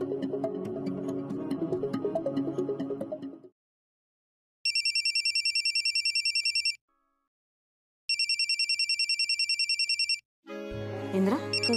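A mobile phone ringtone plays in bursts: two spells of a bright, repeating electronic ring pattern separated by silence, with a melodic tune heard before and after, fairly quiet and close.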